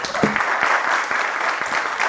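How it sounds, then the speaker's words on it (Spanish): An audience at an art catalogue presentation, the VIII Salón de Arte Joven Nikkei 2024, applauds with a moderate, even patter of many hands, with a few sharper nearby claps standing out. "Un aplauso para José."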